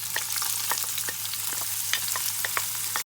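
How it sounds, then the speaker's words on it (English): Chopped onion sizzles steadily in an already hot pan, a dense continuous frying hiss with occasional brief crackles and utensil touches, close and fairly loud, ending abruptly in silence near the end. "So we're just going to saute our onion."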